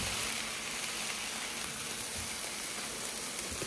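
Sausage and broken-up onions fry in a pan with a steady, dense sizzle that holds even and fairly quiet for the whole stretch, with no talk over it.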